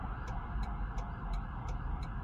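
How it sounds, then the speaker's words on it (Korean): An ambulance siren is heard from inside a Toyota C-HR GR Sport, faint and muffled by the cabin, with rapid repeating yelps under steady road rumble. "앰뷸런스네요."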